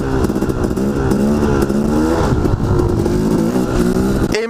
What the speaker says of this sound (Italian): siccome i giri aumentano viene scaricata la potenza sulla ruota posteriore ovviamente e si impenna